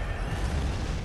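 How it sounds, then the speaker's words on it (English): A low, rumbling fireball blast bursts in the video game Bloodborne, a brief dull boom filling the moment with no talking. "Where are these fireballs coming from"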